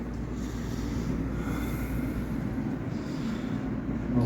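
An Alco diesel locomotive, Central Railroad of New Jersey number 1000, runs by at the B&O Railroad Museum with a steady low engine rumble and rolling rail noise, moderately close, with no voices.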